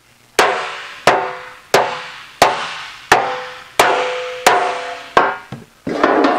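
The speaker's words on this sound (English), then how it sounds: "the hammering technique is to lift the hammer and then snap it" Sharp metallic hammer strikes on sheet metal being shrunk ring out at a steady pace, about eight evenly spaced snapping blows, each with a short ringing decay, close and loud with no talking.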